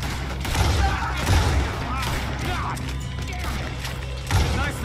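Scattered gunfire in a Red Dead Redemption 2 shootout pops over a dense, noisy battle ambience, with a few heavier thumping shots standing out amid background voices.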